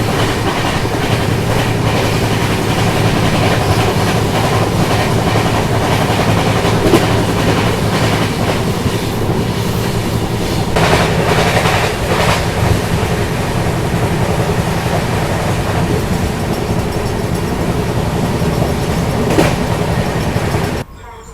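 The KR Rocket superfast express rolls along the rails through a rainy coastal stretch near Kumta, a loud continuous rumble with rhythmic clickety-clack and occasional wheel squeal, heard from on board.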